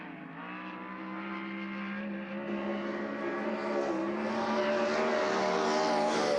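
Race cars lap a speedway track at Southern Iowa Speedway, with a steady, continuous engine drone that slowly rises in pitch and loudness as the cars come around, and no talking.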